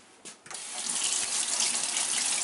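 A kitchen tap runs to rinse a tomato, starting after a couple of small knocks and then settling into a steady, fairly close splashing hiss under the stream.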